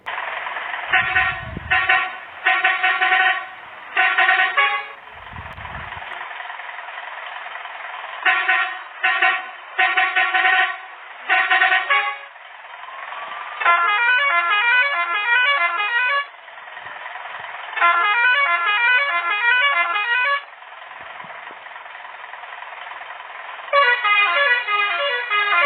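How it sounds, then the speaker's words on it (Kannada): A modified bus horn in the Bus Simulator Indonesia game blares in repeated loud bursts, first short stuttering honks and then longer warbling, melodic tone patterns, separated by brief quieter gaps over a steady engine hum. "1 ಆರನ್ನು ಯಾವ ರೀತಿ ಐತೆ ಅಂದರೆ ಕೇಳಿಸ್ಕೊಳ್ಳಿ ಇಲ್ಲಿ."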